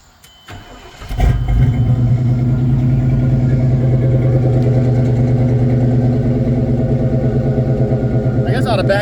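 A 1993 Chevy full-size Blazer with a full Flowmaster 40 Series exhaust cranks, fires and settles into a loud, deep, steady burbling idle close by, with a brief noise at the very end.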